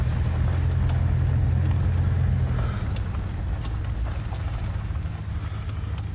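A Ram pickup truck fitted with Rancho RS9000XL shocks backs up slowly in a driveway, its engine a steady low rumble up close that eases off partway through.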